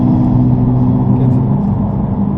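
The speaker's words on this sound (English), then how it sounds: "Yeah, back on the gas again for me." Close, loud in-car engine roar from a Nissan GT-R pulling on a race track, a constant low rumble that barely varies over the short stretch.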